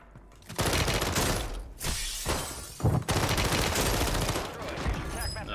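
Rapid Renetti gunfire in Warzone 3 on Rebirth Island, loud dense bursts of shots that keep going across the clip with only short gaps, harsh and close.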